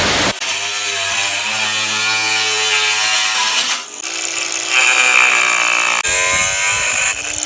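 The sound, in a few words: angle grinder metal cutting blade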